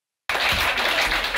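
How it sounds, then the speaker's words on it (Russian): Audience applause for a Grand Prix winner in the instrumental ensemble category at a regional children's festival, starting abruptly and holding as dense, steady clapping from a crowd for the rest of the moment. "Аплодисменты погромче."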